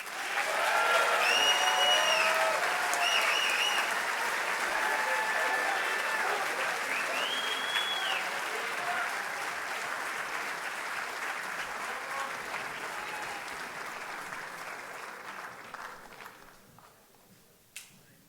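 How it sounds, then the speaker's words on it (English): A crowd at a varsity sports awards ceremony applauds the Male Knight of the Year, loud sustained clapping with a few whistles that gradually thins and fades to scattered claps by the end. "one more big round of applause"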